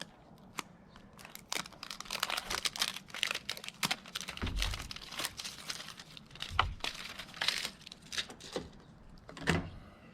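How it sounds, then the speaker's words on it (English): A newly bought package of tape is opened by hand at a workbench where boot toe protectors are being fitted. Soft clicks, snaps and plastic crinkles come close and irregular, scattered across about ten seconds. "I'm getting this tape open that I just got"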